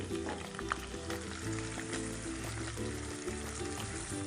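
Chopped onion fries in a pan for a chicken karahi, giving a steady close sizzle with faint utensil clinks and no voices.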